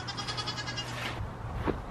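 Goats in a homestead pasture waiting for hay give a continuous, wavering bleat, loud and close, with a shorter bleat near the end and no talking.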